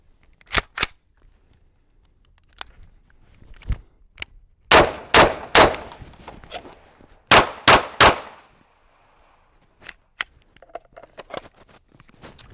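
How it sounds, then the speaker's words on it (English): Rifle and pistol shots striking a lightweight ceramic armor plate: scattered sharp cracks, then a burst of three loud rifle impacts followed by three more, ringing close and alone with faint clanks between. "We're gonna hit this with just a really simple 3 rifle, 3 pistol transition"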